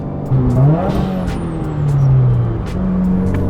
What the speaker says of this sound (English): You can really hear the blow-off valve when you've got all the windows closed.